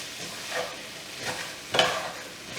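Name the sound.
stirring salt and pepper into vegan tofu curry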